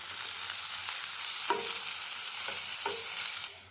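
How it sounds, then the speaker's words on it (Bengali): Onion, capsicum and tomato frying with paneer in a pan, a steady loud sizzle with a few scraping stirs of a spatula, the hiss cutting off abruptly at the end. "এবার হালকা হাতে একটু নেড়ে চেড়ে সবজিগুলোকে ভেজে নিতে হবে।"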